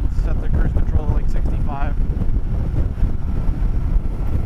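Heavy wind buffeting rushes steadily at the microphone while riding a Yamaha Niken three-wheeled motorcycle at highway speed on cruise control, loud and continuous, with a voice talking over it.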